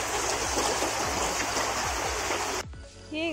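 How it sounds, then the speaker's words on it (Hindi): A village river under a bridge rushes in a loud, steady broadband wash of flowing water close by, then cuts off abruptly near the end to quieter ambience. "ये है नदी"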